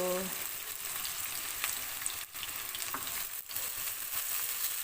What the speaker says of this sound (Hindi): इनको करेंगे हल्का सा ब्राउन, और चम्मच हिलाते जाएंगे जब तक कि हमारे प्याज जो है वो अच्छे से ब्राउन नहीं हो जाते